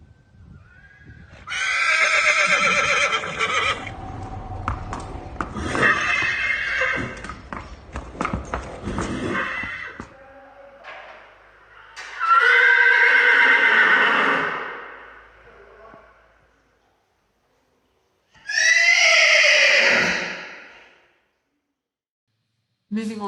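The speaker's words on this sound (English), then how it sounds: "we'll just listen to a couple of examples of high pitch or loud vocalisations" Horses neigh loudly in several long, high-pitched whinnies separated by pauses, close and clear, with some hoof clatter and brief quiet gaps between calls.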